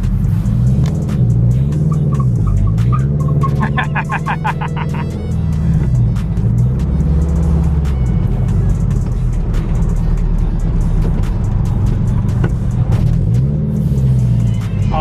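Subaru BRZ sports car engine accelerating hard through the gears, a loud, close, continuous rumbling drone whose pitch sweeps up and drops at each shift, with no talking over it.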